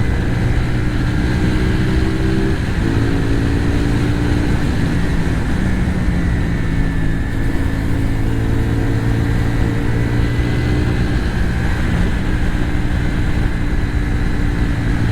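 A 2024 CFMOTO 450 SR-S motorcycle engine drones loud and steady while riding through curves, its pitch rising and falling with throttle changes over continuous wind rush, with no talking.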